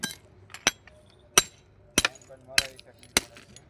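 A hammer breaks apart faulty pieces in a series of about six sharp, ringing blows, evenly spaced and close by, with faint clinks between the strikes.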